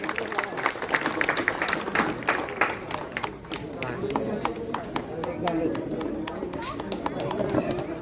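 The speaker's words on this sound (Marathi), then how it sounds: "सगळ्यांनी टाळ्या वाजवायच्या आहेत" A crowd at an outdoor corner campaign meeting in Satara claps in scattered, uneven bursts of sharp individual claps that continue throughout, with a person talking over the applause.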